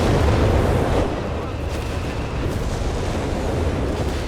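Rocket artillery barrage from a Nebelwerfer in the strategy game Company of Heroes 3, heard as a dense, continuous rumble of launches and explosions that stays loud for the whole stretch, with a slight drop after the first second.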